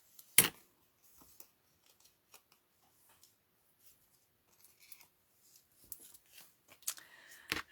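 Scissors trim scraps of paper for Stampin' Up Christmas cards, making quiet, sparse snips spread through a near-silent room, with one louder cut early on and a cluster of closer snips and paper rustles toward the end.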